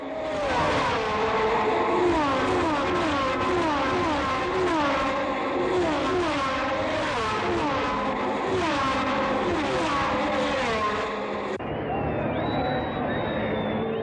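A 1970 Formula One race car at the South African Grand Prix screams past the pits on the straight at high speed, a loud, sustained engine wail with shifting pitch lasting most of the clip before it abruptly thins out.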